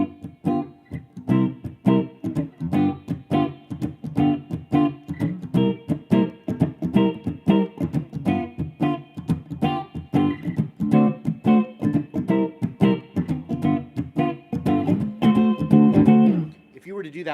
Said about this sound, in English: a 12-bar blues is 3 dominant 7 chords, the 1, 4, 5, but all turned into dominant 7